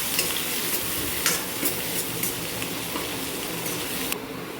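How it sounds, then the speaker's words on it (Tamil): Onions sauté in a pan for sambar, a steady close sizzle with occasional light scrapes of a spoon stirring through, continuous throughout and cutting off just before the end, with no talking. "வெங்காயம் நல்லா பொன்னிறமாக வதங்கட்டும்."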